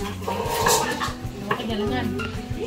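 Very large metal cooking pans and woks clank and scrape while being handled during party food preparation, metallic knocks and rattles up close, with voices talking over the clatter.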